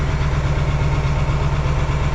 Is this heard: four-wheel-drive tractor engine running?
yes